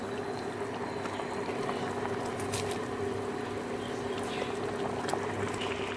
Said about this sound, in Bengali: এবারে ঢাকাটা চাপা দিয়ে কিছুক্ষণ ফুটতে দিতে হবে